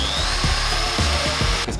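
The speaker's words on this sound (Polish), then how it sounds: "Zaznaczam sobie, gdzie będziemy wiercić, żeby było w połowie tej drugiej deski." A power drill bores into wooden shelf boards for a home-built bookcase, running as a steady whine with a few rhythmic pulses of bit pressure, loud and close, ending with a brief cutoff.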